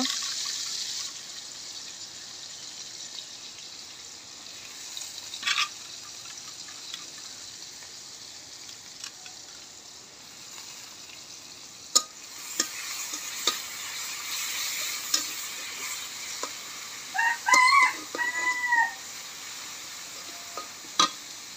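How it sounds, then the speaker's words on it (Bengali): Onion and garlic frying in a pan for a pumpkin leaf dish, a soft continuous sizzle with occasional clicks and stirring scrapes, with brief clatter late on. "তো এই তো পেঁয়াজ আর রসুনগুলি দিয়ে দিলাম। এখন একটা বাদামি কালার করে নিব।"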